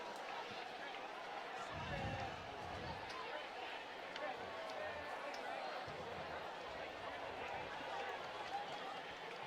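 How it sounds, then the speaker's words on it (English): Large, lively crowd at a high school football game between El Camino High School and OHS at Herb Meyer Stadium, a steady broad roar of many voices with some talk mixed in. "Big enthusiastic crowd here at Herb Meyer Stadium."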